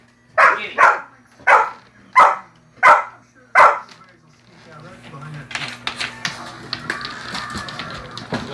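A dog chasing a remote control helicopter lets out six loud, evenly spaced barks up close, followed by quieter scuffling, clatter and faint voices.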